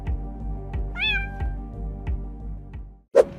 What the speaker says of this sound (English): When a cat got stuck in the doors of a train, this security guard pressed the emergency stop button to rescue the curious kitty.